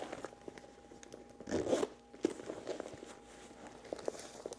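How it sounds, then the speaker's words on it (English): A short zipper pull rasps closed on a Louis Vuitton Nolita 19 bag, followed by soft rustling and light handling clicks, close by and fairly quiet. "there we go. It zips up."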